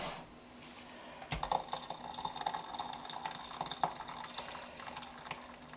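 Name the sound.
hot water poured into dehydrated vegetable stew mix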